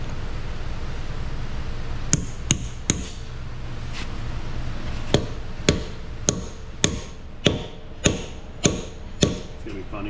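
Sharp metal hammer blows ring out on a Ford F-150 2.7 EcoBoost, about a dozen strikes coming singly and then in a steadier, evenly spaced run over a low background hum.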